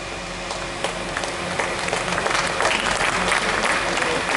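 A crowd applauds continuously for several seconds at an awards ceremony of a bird-lovers' conference in Amravati, dense and steady clapping that swells a little toward the end.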